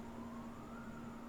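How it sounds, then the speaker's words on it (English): Emergency vehicle sirens wail faintly in a city at night, a distant sustained tone sitting low behind the quiet background with no voices. "You might be able to hear some sirens in the background"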